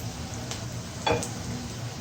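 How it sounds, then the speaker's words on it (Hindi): Onions fry in a pan for a fish curry, a quiet steady sizzle with a couple of light stirring taps against the pan, close and without speech. "प्याज को फ्राई करेंगे। प्याज फ्राई हो गए।"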